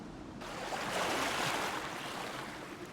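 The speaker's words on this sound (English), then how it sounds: "Clouds darken, waves rise, a storm is coming." Video game waves rise before a storm, a soft, steady wash of surf and wind swelling slightly and then easing, faint and without voices.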